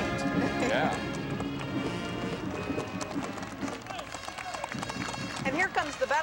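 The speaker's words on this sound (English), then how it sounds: "Now this is a Peruvian peso horse. They say they're about the smoothest horses in the world to ride." Peruvian Paso horse hooves clip-clop on the street during the 1984 Grand Floral Parade at the Rose Festival, a quick steady patter of steps heard through busy crowd noise and voices.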